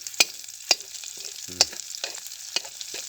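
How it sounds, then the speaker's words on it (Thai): Red curry paste stir-fried in oil for a southern Thai spicy pork stir-fry: sharp spatula clicks against the pan about every half second over a low, steady sizzle, with a soft thud in between. "เติมพริกแกงลงไป ชอบผัดพริกแกงหอมก่อน"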